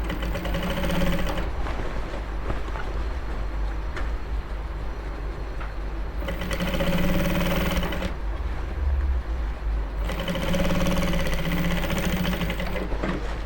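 A sewing machine runs a three-line stitch along the bias of Ankara fabric, its steady motor whirr carrying on in long continuous runs with brief pauses between them, close and moderately loud with no talking.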